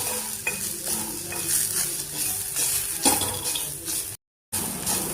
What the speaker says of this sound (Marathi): आता थोडंसं परतून घेऊयात।